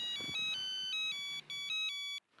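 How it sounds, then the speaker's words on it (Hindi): A phone ringtone in a scene from the Hindi TV comedy Taarak Mehta Ka Ooltah Chashmah, a bright electronic melody of repeated pulsing tones in quick bursts, clear and up front, stopping abruptly near the end. "एक मिनट, फोन है शायद, देखता हूँ।"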